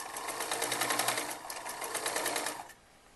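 Sewing machine stitching the back neck of a kurti, a rapid steady whir of needle strokes close by, running for over two seconds before stopping abruptly.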